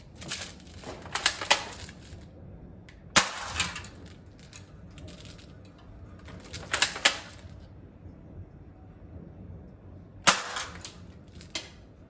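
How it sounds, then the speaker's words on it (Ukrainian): Sharp, loud cracks of a Cyma P48 toy AK-47 airsoft rifle firing in separate bursts, some shots hitting a tin can with a metallic tink, spaced over several seconds with quiet between. "Тепер спробуємо пробити банку жестяну."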